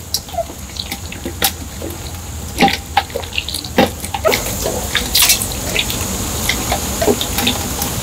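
Grape juice is squeezed out by hand and drips and trickles into a container, making close, wet splashing with scattered drips.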